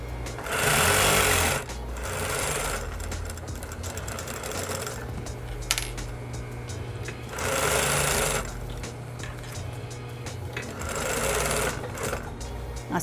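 A sewing machine stitches a lining onto a canvas fabric bag, loud close motor-driven whirring in several bursts separated by quieter pauses and handling sounds.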